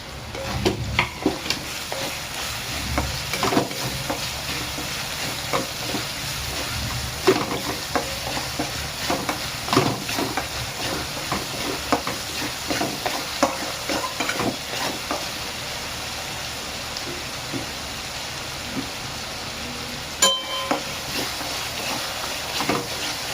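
Tomatoes go into a pan of prawn masala fry with onions, setting off a steady, close sizzle and frying hiss with occasional stirring scrapes, continuing without talk.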